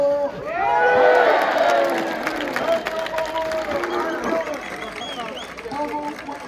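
Crowd at a Camargue-style bull course in Arles cheers and applauds, with shouts and whistles rising to a loud swell early on and then continuing at a steady level.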